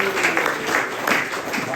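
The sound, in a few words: congregation applauding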